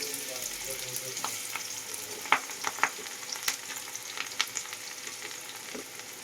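Chopped onion fries in hot white oil with a busy, crackling sizzle. Sharp pops and a few clicks of a utensil sound close by.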